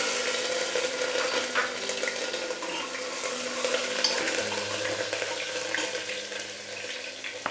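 Green chilies dropped into hot oil with garlic already fried in a pan over medium flame, giving a steady close sizzle and crackle throughout, with faint stirring and no talking.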